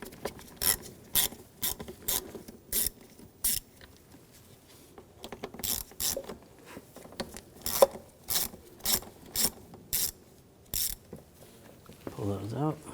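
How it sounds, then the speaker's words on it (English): A ratchet fitted with a T25 socket backs screws out of the starter on a 2007-2013 BMW X5 3.0L inline-six, giving repeated bursts of quick clicking strokes up close, ending with a brief metallic scrape. "Take these two screws out, use a T25 socket."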